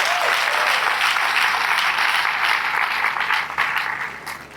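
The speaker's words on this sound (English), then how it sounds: "Please, can you applaud them?" A large audience at a university inaugural lecture breaks into loud, dense, sustained applause that stays full for several seconds before tapering off at the end.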